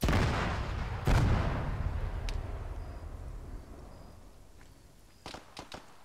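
A video game anti-tank rocket bursts with a loud, close boom that rolls into a long, fading rumble, followed later by a few faint, sharp knocks.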